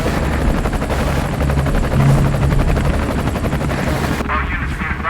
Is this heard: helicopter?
yes